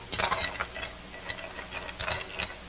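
Ice being stirred in a glass while preparing a café drink, light clinking and ticking taps in small clusters, close and fairly quiet.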